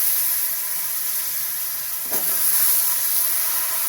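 Cut pumpkin pieces dropped into hot oil with bay leaf, a constant hissing sizzle that swells briefly as they go in around the middle.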